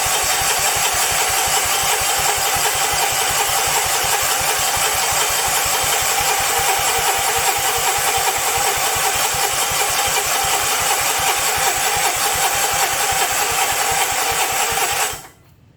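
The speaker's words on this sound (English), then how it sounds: "So I'm going to just give it a crank and we'll see what happens." A 1977 Sears 16/6 lawn tractor engine cranks without firing, a fast, even mechanical chugging that continues steadily for about fifteen seconds and then abruptly stops.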